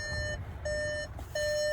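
Warning chime on a 2022 VW Atlas 3.6 SEL 4Motion, sounding with the ignition on and a door open: three steady, fairly loud electronic tones in a row, each held for under a second with short gaps.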